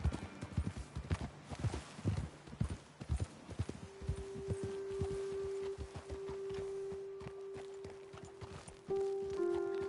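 Rapid clip-clop of horse hooves at a trot in Red Dead Redemption 2, close and distinct, then slowing and fading as a steady tone hums in the background.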